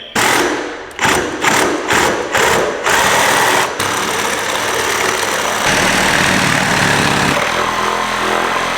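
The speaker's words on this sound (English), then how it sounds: "we are going to use the super accurate reciprocating saw to cut it" A reciprocating saw notches a wooden post for a shop mezzanine, starting with several short loud bursts of rapid buzzing and then running in one continuous, close, harsh cut with no talking.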